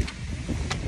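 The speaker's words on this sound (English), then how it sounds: "wind is blowing." Cold, harsh wind gusting outdoors on Santorini, a loud broadband rush buffeting the microphone with two sharper gusts over about a second.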